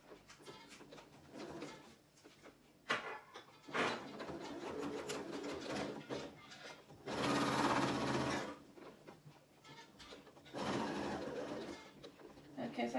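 A home sewing machine stitches an Ankara fabric face mask. It runs in short, quiet bursts of whirring between soft handling sounds, with someone talking in between.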